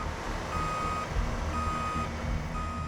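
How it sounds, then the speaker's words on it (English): A tow truck backing up toward the edge at a highway recovery, its reversing alarm sounding steady, evenly spaced beeps over a constant low engine rumble, fairly close. "Then Dylan has to back his truck closer to the edge."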